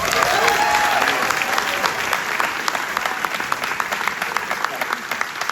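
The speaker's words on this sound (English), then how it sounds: "Can we get a round of applause for Derek Huff?" Loud, steady applause from a film festival audience greeting the producer, many hands clapping together and slowly tapering, with faint voices mixed in.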